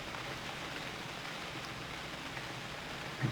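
Rain in the video game UnReal World, a steady, soft, even hiss of rainfall holding at a constant low level throughout.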